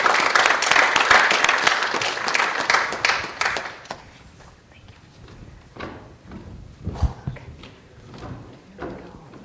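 Audience applause welcoming a speaker at a lecture hall talk, a dense burst of clapping that fades into scattered claps and room shuffling over several seconds.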